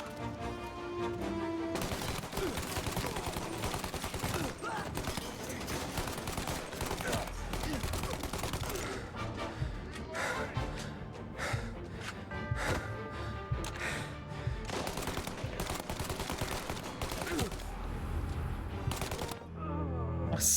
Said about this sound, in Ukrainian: Moving up with the Tommy.